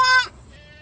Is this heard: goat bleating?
yes